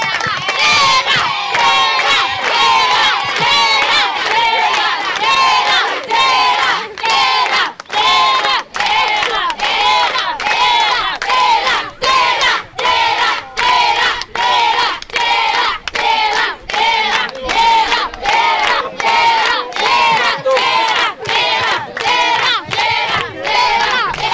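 Schoolchildren at a public school broadcast set in Maroua clap and cheer in rhythmic unison, loud and sustained, with repeated chanted shouts carried over a steady beat of hands.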